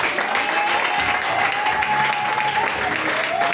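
A church congregation applauding at a Pentecost service, sustained dense clapping from a large crowd with voices mixed in underneath.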